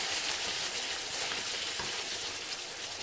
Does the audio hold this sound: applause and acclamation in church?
no